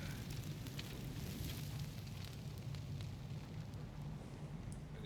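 Fire burning a corpse in the horror video game The Evil Within: a soft, continuous crackling roar with scattered pops and flickers, steady and fairly quiet throughout.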